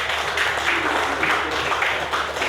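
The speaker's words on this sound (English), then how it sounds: "Please, a round of applause for her." An audience at the MUSON Festival ceremony gives a round of applause, a dense, steady patter of clapping that continues evenly without talk.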